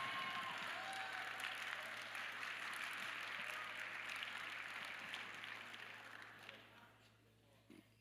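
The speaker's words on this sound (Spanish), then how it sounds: "Los de este lado están aplaudiendo," Church congregation applauding during a sermon, a broad steady wash of clapping that holds for several seconds before thinning and fading out, with a low hum underneath.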